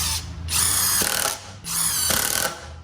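A SKIL PWRCore 20 impact driver sinks a 2.5-inch T25 deck screw in two loud, close bursts of rapid hammering whir, separated by a short pause.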